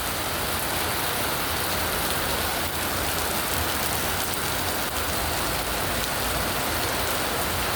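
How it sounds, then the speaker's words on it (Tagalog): Heavy typhoon rain pours down steadily, a dense, loud, unbroken hiss of drops on surfaces with no pauses, close by and alone. "Oh, lakas ng ulan"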